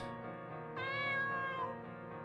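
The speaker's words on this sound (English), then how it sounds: "Cat." A cat meows in the Seraphic Blue role-playing game, one long drawn-out harmonic cry that swells in the middle, heard alone and fairly clear.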